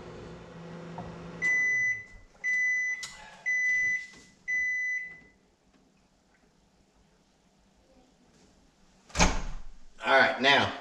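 A microwave oven finishing heating a bag of rice for ninety seconds sounds four long, loud, evenly spaced beeps, then after a pause the door clunks open and the bag rustles.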